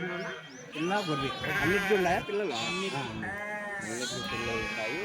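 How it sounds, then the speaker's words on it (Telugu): Several large sheep bleat loudly and repeatedly close by at a weekly sheep and goat market in Kadiri, overlapping wavering cries that fill the whole stretch, with some talk mixed in. "ఇవన్నీ పెద్ద సైజ్ గొర్రెలు"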